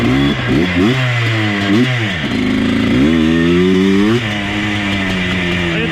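Engine of an abandoned ATV with a suspected ignition fault revving loud and close, pitch swooping up and down several times with uneven, stumbling bursts through the power band.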